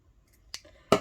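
Two sharp, close scissor snips cut through scraps of fabric, the second louder, with a faint rustle between them.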